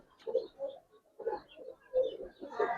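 Giribaz coloring high-flyer pigeons cooing in soft repeated bursts, low and throaty, fairly faint, in a quiet space with no clear talk.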